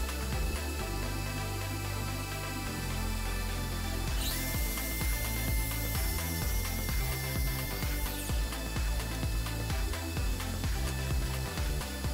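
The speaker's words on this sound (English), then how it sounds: "I have to do the 36-inch cut on my miter saw. Now I just cut it halfway through, flip the board over, and then finish the cut." A miter saw cutting partway through a wooden board, a continuous loud whine with a sharper high-pitched cutting phase in the middle, close and steady with no talk.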